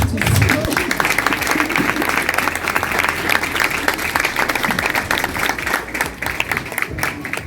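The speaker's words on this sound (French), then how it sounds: "Est-ce qu'on peut applaudir encore bien fort pour ce discours?" An audience applauds after a speech, a loud dense round of clapping holding steady throughout, with faint voices mixed underneath.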